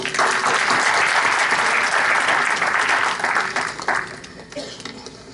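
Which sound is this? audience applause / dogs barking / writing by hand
audience applause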